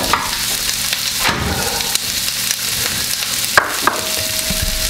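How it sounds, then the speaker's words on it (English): Onions sizzle steadily in butter in a pan, with loud scraping stirs and clatter from a utensil breaking through the constant frying hiss. "I did put butter in the pan with the onions. So we're going to give these a really nice stir here."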